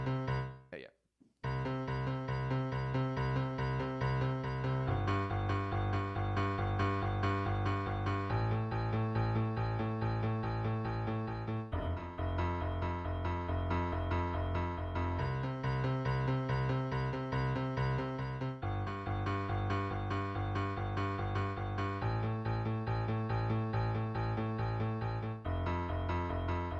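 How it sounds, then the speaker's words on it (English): A piano left hand plays an open octave pattern implying chords, rolling steadily for over twenty seconds after a brief dropout at the start, with repeating low octave figures under sustained ringing tones. "if I just play the left hand pattern with those implied chords"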